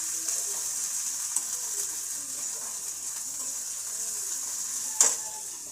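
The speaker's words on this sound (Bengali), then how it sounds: "পেঁয়াজটা ভাজা হয়ে যাচ্ছে" Onion, along with ginger and garlic, sizzles in hot oil in a pan for aloo chop, a steady close hiss with a few faint stirring clicks and one brief louder clatter near the end.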